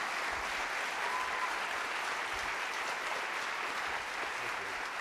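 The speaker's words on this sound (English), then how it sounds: "another round of applause for our panelists." Steady, even applause from a forum audience thanking trade-policy panelists, a dense wash of clapping that holds at one level throughout with no voices rising above it.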